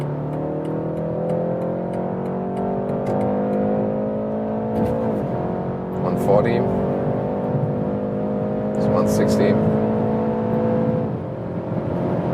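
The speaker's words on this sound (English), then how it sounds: "that's really nice sound for a 4-cylinder engine" A 2023 BMW 330i four-cylinder engine accelerates hard through several gears, pitch climbing and dropping at each shift, with a person speaking briefly over it.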